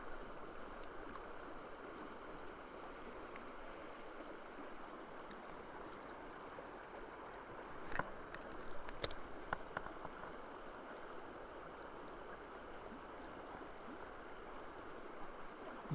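Fast-flowing water on the River Leven, a steady broad rushing hiss heard from nearby, faint overall, with a few brief knocks partway through.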